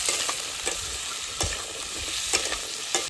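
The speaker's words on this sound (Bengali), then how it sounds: "আলুগুলো বেশ ভালোভাবে লাল লাল করে ভাজতে হবে।" Cut potatoes fry in a pan for a vegetarian potato, pointed gourd and paneer curry. A close, steady sizzle is marked by periodic scraping stirs, with no talking.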